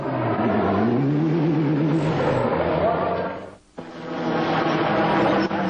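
An off-road race car at the 1994 Kempsey event holds a loud, steady engine note with wavering revs and a brief dip, while a commentator talks over it throughout.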